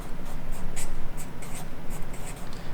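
Writing words by hand in a classroom setting, busy scratching strokes of pen or marker on a surface, continuous and fairly loud, with brief pauses between letters and no talking.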